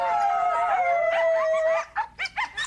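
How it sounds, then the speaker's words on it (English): Several rescued coyotes kept in captivity howl together in a loud, close chorus of long wavering tones that end in a few short yips. "All of my coyotes here are rescue coyotes."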